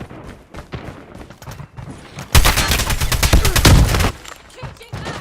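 Rapid automatic gunfire from Call of Duty Mobile bursts loudly for about two seconds in the middle, framed by quieter clicks and game effects.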